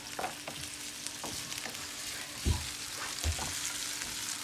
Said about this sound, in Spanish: hay que se cocine un buen poco la cebolla y los pimentones o ají morrón